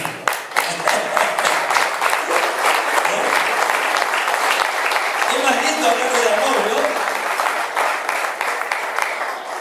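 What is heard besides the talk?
congregation applause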